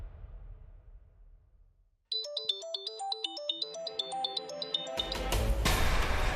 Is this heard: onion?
no